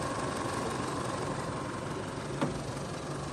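A used Isuzu D-Max Cab pickup's engine idles steadily at close range, a dense continuous rumble with a single faint knock partway through and no talk.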